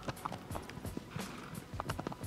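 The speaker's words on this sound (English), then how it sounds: "you have to press triangle to kick your horse to make it actually move." Horse hooves clopping at a steady gallop in the video game Shadow of the Colossus, a quick, fairly loud rhythmic patter of close hoofbeats heard alone.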